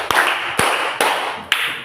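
Children in a school physical education lesson clap together in a counted clapping game, producing four sharp, evenly spaced claps at a steady rhythm, close and fairly loud with no talking.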